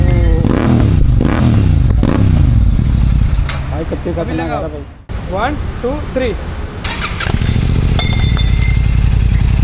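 A GT 650 motorcycle with a Red Rooster exhaust and the dB killer removed revs loudly and close, with repeated throttle blips, rising and falling engine pitch and a short drop before the revs build again, while someone talks and counts over it.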